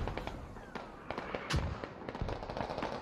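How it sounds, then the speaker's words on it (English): Mortar shells land on a forward operating base in a military shooter game, giving a dense string of sharp cracks and booms, one heavy blast near the middle standing out over scattered crackling gunfire. "But mortars coming into the middle of the fob area."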